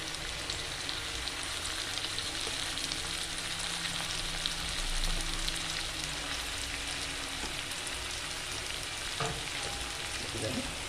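Onions frying in a pan sizzle steadily as green chilies are added, giving a continuous, close hiss with a few brief stirring and clattering touches near the end.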